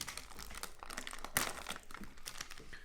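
A plastic wrapper on a prison food brick crinkles and tears close up, steady rustling with one sharp ripping burst midway.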